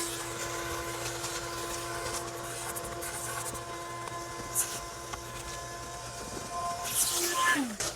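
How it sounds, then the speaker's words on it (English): A steady mechanical whine and hiss drones continuously as a vacuum cleaner clears a rodent nest from a Chevy Bolt's air ducting nearby, with a brief rising squeal near the end. "once I get the vacuum going"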